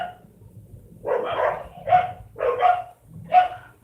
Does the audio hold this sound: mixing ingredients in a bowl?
no